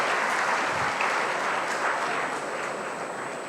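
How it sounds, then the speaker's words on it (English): Audience applause at a Foundation Day 2024 alumni honours ceremony at PSG Tech, a dense, steady wash of clapping that fills the whole stretch and tapers slightly toward the end. "Please give them another round of applause."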